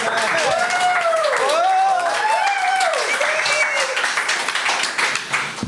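Sustained applause from a crowd, loud and steady, with a voice calling out over the clapping before it tapers off.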